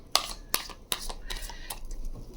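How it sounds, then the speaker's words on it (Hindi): Tarot cards are shuffled by hand in a few quick riffling bursts, close and crisp, fairly quiet, with faint room noise between them. "अभी और शफल कर लेती हूँ।"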